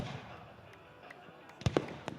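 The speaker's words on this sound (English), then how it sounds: "I spent 4th of July weekend in Demopolis, taking in the fireworks and tagging along with David Snow" Fireworks at a Fourth of July celebration in Demopolis: a few muffled pops and cracks burst late in the stretch over a steady, low background murmur, fairly distant and soft.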